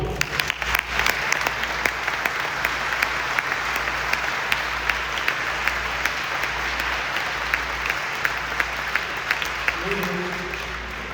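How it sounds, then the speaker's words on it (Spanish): Sustained applause from an audience at a women's Bible workshop, a dense steady patter of clapping lasting several seconds before tapering off, with a few voices faintly underneath. "Un aplauso."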